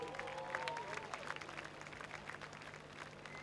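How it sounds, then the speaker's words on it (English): Crowd applause at Archerfield Speedway during a sprintcar A-Main for the Queensland Title, a faint, distant patter of clapping under a steady hum. "Give him a round of applause"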